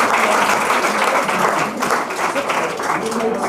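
Audience at a stage event applauds the team behind a Haryanvi film, a dense, loud, continuous wash of clapping that fills the whole few seconds, with a voice speaking faintly beneath it.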